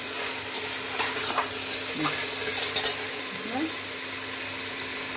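Masala for mutton ishtu sizzles in a pan while being stirred, with soft scraping and a few clinks of a spoon against the pot over a steady frying hiss.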